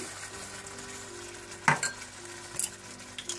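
Sauce of vinegar, black pepper, sugar and soy sauce cooks in a pan with a low simmering sizzle, broken by a few sharp clinks of a utensil against the pan.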